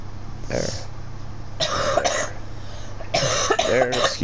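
A person coughs several times in short harsh bursts with throat clearing between them, close to the microphone, while recording Minecraft gameplay.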